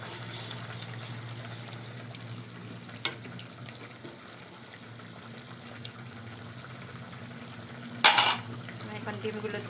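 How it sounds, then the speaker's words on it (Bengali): A spoon stirs bottle gourd and egg curry in a pan: soft continuous scraping and sizzling under a low steady hum, with occasional sharp clinks of metal against the pan and one louder clatter near the end, no talking. "আমি নেড়ে দেবো।"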